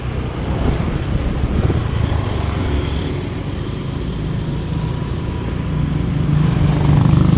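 A truck passes along a street in Bekasi, a steady rumbling engine and road noise that swells toward the end as it draws closer, with no talk over it.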